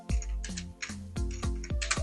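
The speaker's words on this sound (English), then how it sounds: "So now let me just type in something" Typing on a computer keyboard during design work, a short burst of about seven or eight close, crisp key clicks in quick irregular succession.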